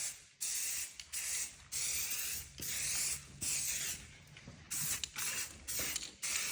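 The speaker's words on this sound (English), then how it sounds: "Giving the full exhaust a spray job." Bursts of aerosol high-temperature paint hiss in repeated short blasts onto a motorcycle exhaust, with brief pauses between, close and fairly loud, with faint mechanical clicks beneath.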